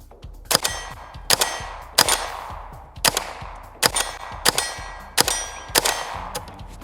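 An AR-7 .22 rifle firing outdoors: seven sharp cracks spaced roughly a second apart, each with a short ringing metallic tail, loud and close with no talk.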